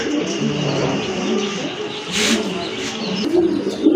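Pigeons at a bustling pigeon market coo steadily in low, throaty bursts, joined by a few sharper chirps, with indistinct voices of traders talking nearby throughout.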